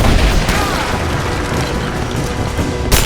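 Gunfire and booming explosions erupt in the action game Rise of the Tomb Raider, dense and loud throughout, with rattling mechanical clatter and a sharp burst near the end.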